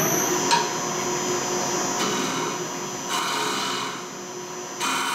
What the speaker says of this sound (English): Hollowing this out, you could use the mate tool, as I said, or any gouge that you feel comfortable doing